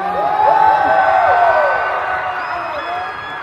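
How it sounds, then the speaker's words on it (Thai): A crowd cheers and whoops with voices rising and falling, loud and close, at a fourth-anniversary celebration event for ACTS Channel; the roar holds steady, then eases slightly toward the end. "ปรบมือให้กับพวกเราหน่อยได้ไหม"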